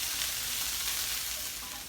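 Beans and onions sizzle steadily in a pan for a casserole, a dense, even crackle held at constant loudness throughout, with no voices.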